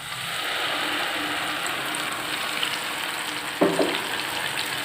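Ground tomato and onion sizzle steadily in a hot pan for Kerala-style egg curry, a continuous soft frying hiss with a brief scrape and clatter of stirring near the end.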